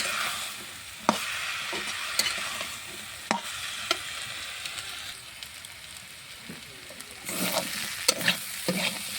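A spoon scrapes and stirs a simmering curry in a sizzling pan, with sharp clacks against the metal every second or so over a constant frying hiss.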